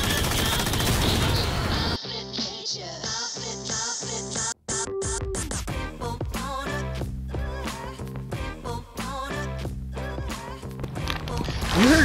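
Gunfire in Call of Duty: Warzone comes as sharp, repeated shots in irregular bursts over game music and effects, with one brief drop-out partway through.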